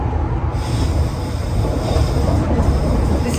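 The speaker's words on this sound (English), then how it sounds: "here is what the train looks like going from Kyiv to Kharkiv" A passenger train travelling from Kyiv to Kharkiv produces a steady, loud rumble of wheels and carriage noise throughout, heard from on board with no break.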